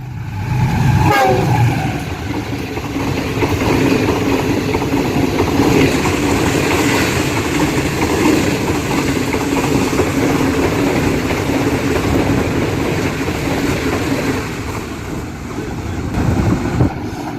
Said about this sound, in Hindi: आप ग्रीन लाइन एक्सप्रेस GU40 9051 के साथ यहाँ से थ्रू पास होने लगी है।